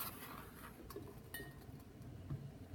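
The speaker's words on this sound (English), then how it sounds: "I'm going to sit my metal bowl on top." A metal bowl is set down on a small pot of steaming, boiling water, giving a few light metallic clinks close by over a steady low background hiss.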